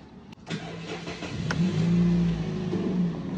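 A car engine cranks briefly and then fires up after pressing a converted push-start button, catching with a revving surge before settling into a steady, close idle.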